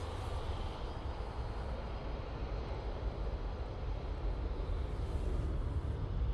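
A Jet2 airliner heading to Paphos rumbles in the distance as it takes off, a steady, fairly faint broadband engine roar that continues without a break.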